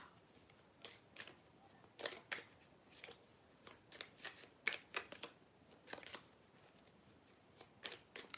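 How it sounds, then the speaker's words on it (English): Tarot cards are shuffled by hand in quiet, repeated crisp riffles and slaps, close and fairly soft, roughly a dozen bursts spread evenly with no talking. "I keep shuffling and literally the same ones keep coming out."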